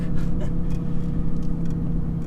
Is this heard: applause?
no